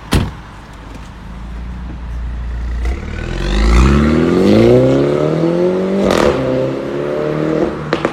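A Mini Cooper John Cooper Works engine starts and revs, its rumble rising and climbing in pitch, with a door clunk near the start and a click at the end.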